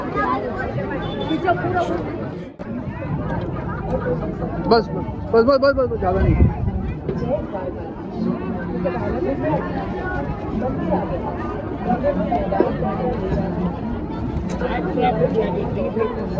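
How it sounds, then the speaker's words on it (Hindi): Dense babble of a large crowd of pilgrims at Bet Dwarka temple, many voices overlapping into a steady hubbub, with a nearby voice speaking over it throughout. "हाँ देखो पब्लिक हो कितनी भीड़ है।"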